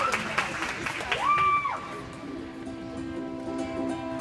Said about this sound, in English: let's give a warm round of applause to Jaedyn Kane and Claire Mayfield